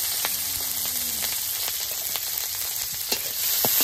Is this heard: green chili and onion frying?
yes